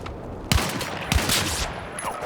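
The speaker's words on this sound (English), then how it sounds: "Hostile machine gun." Hostile machine gun fire in Battlefield RedSec, a video game battlefield: two sharp loud bursts stand out over a dense, continuous din of combat noise and scattered shots.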